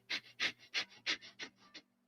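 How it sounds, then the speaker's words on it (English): Rapid breath-of-fire panting, like a dog: about nine quick, sharp breaths in an even pulsing rhythm over two seconds, close and breathy with a faint hum underneath. "Breath of fire is as if you're panting like a dog."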